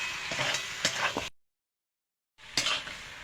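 Goat head curry with turmeric sizzling and being stirred in a pan, a steady close frying crackle with faint scraping, broken by a short silent gap before the sizzle resumes.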